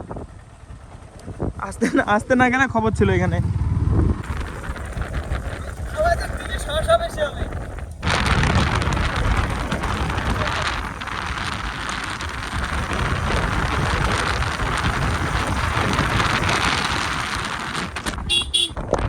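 Strong wind roars across an open riverside ghat as a storm rises, a dense rushing noise that turns into a constant blast for the second half. Someone talks over the first few seconds.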